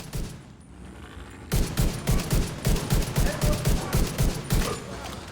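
A rapid-fire gun in the video game Tom Clancy's The Division lets off a sustained automatic burst of evenly spaced loud shots over game ambience, with a voice briefly heard near the start.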